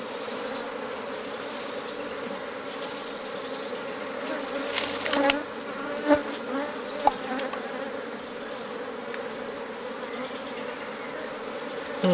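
Steady insect buzzing from many bees around a honeycomb, close and continuous, with a few brief clicks and taps partway through.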